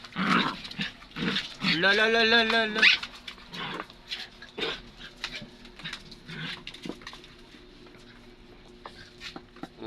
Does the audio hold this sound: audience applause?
no